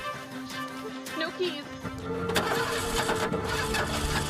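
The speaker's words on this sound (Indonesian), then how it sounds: "Namun saat Joe menstarter mobil itu tidak berhasil menyala" A jeep's starter motor grinds as the engine is cranked and fails to catch, mid-loud and continuous, under speech and film soundtrack noise.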